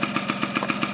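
1983 Yamaha RX50 Special motorcycle with a small engine running at a steady idle, close and loud, with a regular pulsing beat of roughly eight firing pulses per second and no talk.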